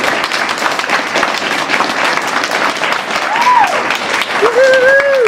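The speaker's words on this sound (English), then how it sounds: "Can we give Brooke one more round of applause?" An audience applauds Brooke after her morning message, sustained loud clapping with cheering, and high whoops and whistles rising above the applause toward the end.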